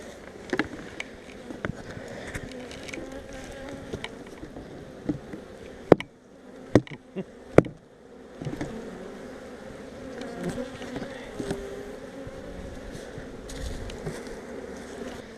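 A dense, steady buzz of many honeybees swarming close around a hive during a nuc installation, with a few sharp knocks and clicks partway through.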